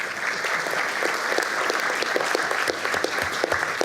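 An audience at a public procurement forum claps on cue in a test, producing dense, even applause that is sustained and fairly close for a few seconds.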